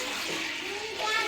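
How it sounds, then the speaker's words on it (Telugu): A steady rush of water is poured into lentils (dal) for cooking, a continuous broadband pour that grows slightly louder near the end, with faint voices in the background. "నీళ్ళు పోసుకుంటున్నా చూడండి."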